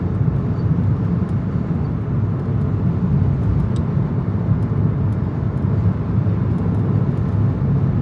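Audi A2 1.4 TDI driving on the Autobahn, a steady loud interior rumble of engine, road and wind noise with no change in pace throughout.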